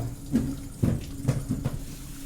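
A new IFB washing machine fills with water on its first use, giving a close, continuous rush of running water with a few rhythmic surges and no talk.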